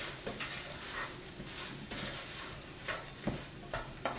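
Stirring chili with ancho chilies in a pot, with repeated soft scrapes and thumps of the spoon over a faint sizzle, heard alone at low volume.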